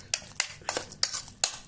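A spoon scrapes and knocks against a pot while mixing coconut and dal, making about five sharp, evenly spaced strokes close up with quiet gaps between them.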